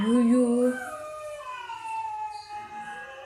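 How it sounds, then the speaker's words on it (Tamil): Several dogs howl at night in long, wavering, overlapping tones, loud at first and then tapering into quieter drawn-out wails, with no clear barking or talking. "இத்தனை நாய் குலைக்குது"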